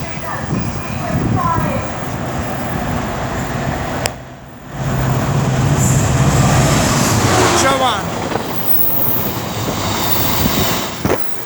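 A freight train rolls through Birmingham International station on the West Coast Main Line with a loud, continuous rumble and rattle that briefly dips before resuming. Wagons clatter by at close range.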